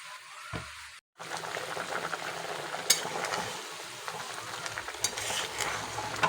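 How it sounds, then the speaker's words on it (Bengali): A potato and onion curry bubbles and sizzles in a pot, a steady soft simmer with scattered pops and crackles after a brief clatter near the start. "তরকারিটা আমার ফুটে গেছে"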